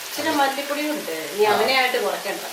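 Spices with turmeric and garam masala sizzle in a pan for egg curry while being stirred, a bright, close crackle with scraping strokes, heard under a speaking voice.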